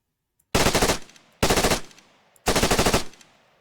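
M7 SMG in the Arma 3 Halo mod, firing three loud, close full-auto bursts of about half a second each, separated by short silences, with no talking.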